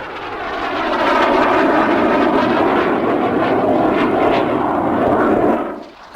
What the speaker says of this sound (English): Its engine is a Rolls-Royce Viper turbojet